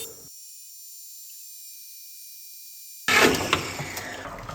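A saw cuts through a large forge-welded steel stack to make billets; a thin high whine holds over near-silence, then a loud harsh grinding cut bursts in close and continues to the end.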